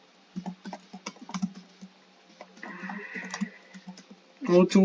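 Computer keyboard keys click in quick, uneven bursts during a Minecraft building session, close and moderately quiet, while someone talks over the typing.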